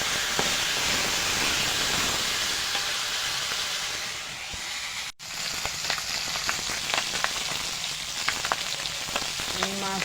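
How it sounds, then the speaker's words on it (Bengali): Magur catfish frying in hot oil in a kadai: a loud, hissing sizzle runs throughout with a brief cutoff midway, then resumes with crackling pops and spits. "এবার মাছটা ভেজে নেব"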